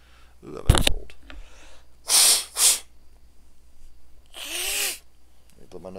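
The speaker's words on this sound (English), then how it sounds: "Let me blow my nose." A person blows their nose in a few loud, breathy bursts close to the mic, with quiet talk and faint game noise around it.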